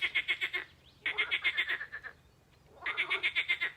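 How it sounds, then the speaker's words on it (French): Frogs croak in rapid pulsing bursts, three choruses separated by short pauses, fairly close and clear against a quiet night background. "s'il y a du bruit autour comme des grenouilles"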